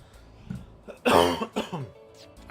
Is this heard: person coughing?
yes